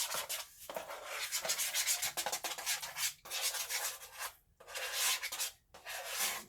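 White cake mix being stirred in a plastic Tupperware breakfast maker, with steady rubbing and scraping strokes against the plastic and a few brief pauses between bursts.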